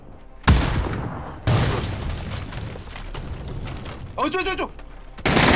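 Video game gunfire in a competitive match: several loud, sharp bursts and booms at irregular intervals, with people chattering between and over the shots.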